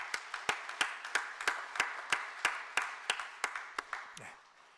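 A church congregation applauds to welcome visitors from America at a Thanksgiving Sunday morning service, with about a dozen sharp, evenly spaced bursts of clapping that fade away toward the end.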